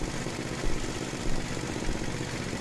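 An Estate by Murray 8/27 dual-stage snow blower engine idles slightly fast after adjustment, a steady close rumbling drone with faint periodic surges.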